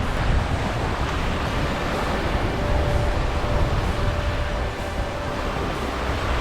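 Strong wind roars across the microphone on a beach in Romblon, Philippines, while ocean waves crash and wash continuously in the background, loud and steady throughout.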